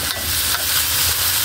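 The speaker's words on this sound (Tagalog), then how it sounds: "Lagay na po ni Mama yung chicken po" Chicken pieces for adobo hitting a hot pan and sizzling loudly, a dense, close, continuous hiss with a few brief stirring scrapes mixed in.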